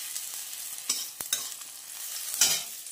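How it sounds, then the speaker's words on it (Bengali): Bitter gourd slices frying in a pan with whole cumin seeds give a soft, steady sizzle, broken by a few sharp clinks and scrapes of stirring, with no talking. "আমি এই যে উচ্ছেটা ভেজে নিচ্ছি, আর সাথে দিয়ে দিয়েছি গোটা জিরে"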